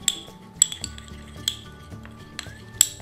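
A spoon clinks against a small dish while hot chilli powder and good olive oil are stirred together, giving several sharp metallic taps over a soft scraping stir, close and fairly quiet.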